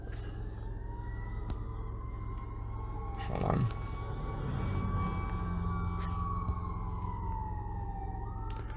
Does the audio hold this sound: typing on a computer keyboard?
no